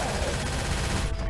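Rapid gunfire from the zombie co-op shooter Left 4 Dead 2 rattles out in dense, overlapping automatic bursts. It stays loud and continuous without a break.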